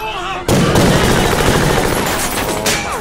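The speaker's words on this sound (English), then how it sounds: "they're shooting civilians!" Dense, rapid gunfire from the Brazilian film Elite Squad, a loud sustained fusillade of overlapping shots that bursts in suddenly and continues without pause, with a faint voice before it starts.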